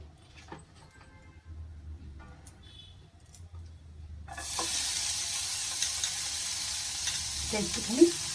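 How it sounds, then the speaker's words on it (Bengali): Chopped onion drops into hot olive oil and a dense, loud sizzle bursts out halfway through, after a quieter stretch of faint clatter, and it holds steady near the pan with one sharp clink near the end. "অলিভ অয়েল দিয়ে এবার আমি যে পেঁয়াজটা কেটে রেখেছি ওটা আগে ভাজবো একটুখানি"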